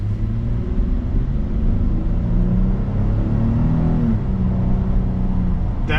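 A 2024 Nissan Frontier SL 4x4 pickup with a V6 accelerates from a stop, a steady loud cabin-side engine drone with rising pitch through a shift, continuous for six seconds with no voices.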